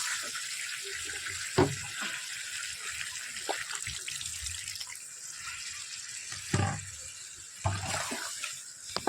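Water is poured into a cooking pot in a home kitchen, a faint steady splashing stream with a few louder knocks and clatters of the pot along the way.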